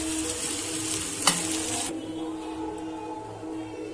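Boiled rice is stirred into a pan of roasting masala, giving a close, steady sizzle and scraping hiss that drops in brightness partway through, with no talking.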